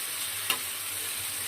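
Spices with turmeric being stir-fried in a pan for a fish curry, a soft steady sizzle with one brief spatula knock, no voices.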